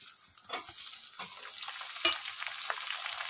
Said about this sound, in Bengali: পেঁয়াজগুলো এখন সোনালি কালারের হয়ে গেছে, তো এখন আমি টমেটোগুলো দিয়ে দেবো এতে।